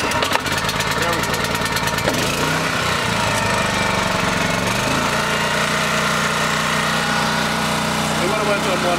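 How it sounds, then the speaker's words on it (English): A portable generator runs close by with a loud, steady engine drone after a ragged, sputtering start, settling into an even idle that fills the clip. "I don't know if anybody's had a generator before that's louder"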